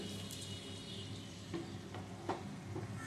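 Fried pabda fish go into a pan of simmering tel jhal, and a continuous oily sizzle runs throughout with a few soft bumps and stirring scrapes mixed in.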